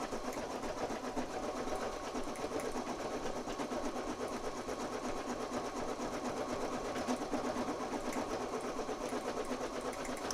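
An embroidery machine runs steadily while stitching a design for a straw beach clip, a dense continuous mechanical whir with fast rhythmic needle chatter, close and constant with no talk.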